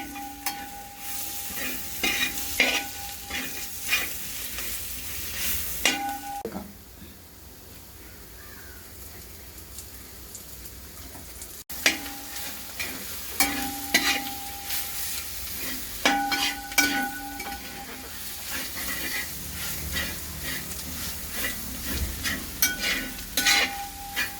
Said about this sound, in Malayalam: അപ്പം നമ്മളൊരു അഞ്ച് ടീസ്പൂൺ മല്ലിപ്പൊടി ചേർത്ത് കൊടുത്തിട്ടുണ്ട് ഒന്ന് ഇളക്കി കൊടുക്കാം